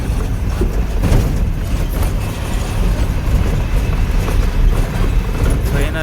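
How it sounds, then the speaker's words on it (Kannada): An Eicher Pro 2110 truck lurches over a rough hill road on the Bangalore to Nepal route with the window open, giving a loud, continuous rumble of engine, wind and rattling body throughout. "ರೋಡು ಬೈಟ್ ಸೌಂಡ್ ಕೇಳಿಸ್ಬೇಕು ಅಂತ ವಿಂಡೋ ಓಪನ್ ಮಾಡಿದ್ದೀನಿ"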